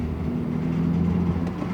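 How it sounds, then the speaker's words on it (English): Tuned BMW M2 exhaust rumbling with a low, steady droning burble, loud and close, continuous for under two seconds with no voices. "Definitely worked, because those burbles are off the charts."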